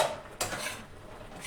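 A utensil scrapes and knocks against a pan while orange barfi mixture is stirred, one soft clatter followed by a quiet scraping, faint and close.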